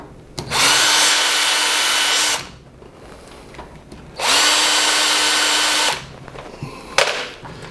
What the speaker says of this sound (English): and then I can drill the hole.